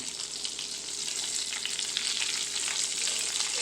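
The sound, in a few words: chicken breast frying in oil in a pan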